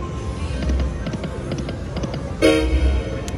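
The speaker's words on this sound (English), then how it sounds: "There's that dragon train." A dragon train horn sounds from a slot machine game, a short bright toot rising loudly over the steady casino bed of electronic jingles and chimes near the end.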